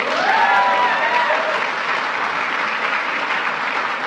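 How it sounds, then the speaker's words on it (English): Audience applause at a ceremony for a military academy, with a steady wash of clapping from a large crowd. The applause starts loud and stays dense throughout, with a faint whistle or cheer near the start. "You can clap."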